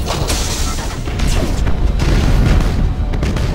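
Warship weapons firing in the Battlefleet Gothic Armada video game: a dense, continuous barrage of heavy booms and crashing impacts over a deep rumble, loud and close, with no voices.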